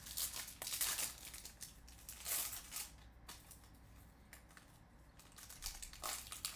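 Crinkly plastic wrapper of a trading card pack being torn and crumpled in short bursts, close up, with no talking.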